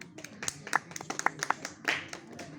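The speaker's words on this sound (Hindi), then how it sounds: "एक बार तालियां हो जाए" A small group in a school setting claps for a ninth-grade student honored in an art and craft competition, a short burst of sparse, uneven hand claps heard fairly close for a couple of seconds.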